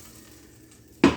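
Butter sizzles in a pan on the stove before pancakes are made; quiet hiss at first, then a sudden loud, bright sizzle near the end.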